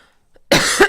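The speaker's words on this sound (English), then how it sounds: "Excuse my cough." A single sharp, close cough bursts out after a moment of near silence, followed by a quick second cough, both loud and dry in a quiet room.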